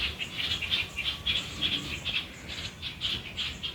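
A bird calls near its nest among trees, a repeated run of high chirps fairly close and steady, over faint background hiss.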